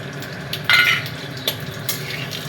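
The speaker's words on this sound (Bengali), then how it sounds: "তেল আমার গরম হয়ে গেছে, এর মধ্যে দেব একটুখানি চিনি, আর দেব আমি শুকনো লঙ্কা, জিরে আর একটা তেজপাতা ছিঁড়ে" Sugar, dried red chillies, cumin and a torn bay leaf drop into hot oil for a Rajshahi-style potato curry, giving a short bright sizzling burst that fades into a low steady fry, with a couple of faint clinks afterwards.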